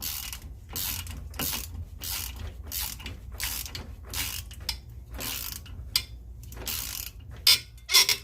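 Ratchet wrench tightening the bolts on a stuck, rusted brake rotor, a run of quick clicking bursts in a steady back-and-forth rhythm, close up, with a few sharper metallic ticks near the end and no talk.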